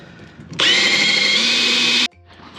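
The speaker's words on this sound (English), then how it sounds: "Drill's in exactly the right place, which is great." A power drill bores a hole into a boat's toe rail, made of a material like compressed wood chippings, in one loud steady whine of about a second and a half, starting and stopping abruptly.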